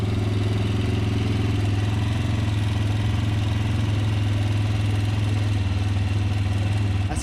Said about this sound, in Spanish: Sonido del motor.